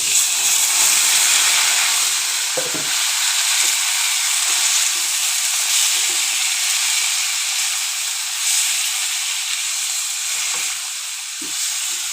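Tomatoes dropped into hot oil with fried onion, salt, cumin, curry leaves and mustard seeds, giving a loud, steady sizzling hiss that continues unbroken, with faint handling sounds now and then.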